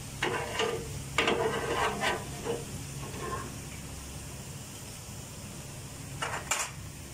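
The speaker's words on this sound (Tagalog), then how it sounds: "Next, natin i-fry yung patatas, carrots" Potatoes and carrots frying in a pan, a soft steady sizzle under several clattering stirs and utensil scrapes, clustered early and again near the end.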